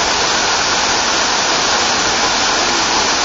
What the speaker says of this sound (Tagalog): Ang lakas-lakas pa ng current ng water niya at ang taas-taas pa niya.